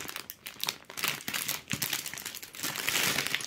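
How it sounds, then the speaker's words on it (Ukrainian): Plastic bag of Lego pieces from a Sonic the Hedgehog mech set being emptied out, with close, continuous crinkling and rustling plus small plastic parts clattering and spilling, no talk. "Далі треба висипати другий пакет."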